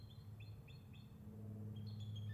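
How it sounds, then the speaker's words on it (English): Young bald eagles call from overhead, a series of thin high chirping whistles repeated in short bursts, faint and distant over a steady low engine rumble. "a couple little young bald eagles."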